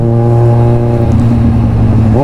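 A car cruises through heavy Saturday-morning highway traffic on the SCTEX, its engine humming loud and close with a steady drone that shifts pitch near the end.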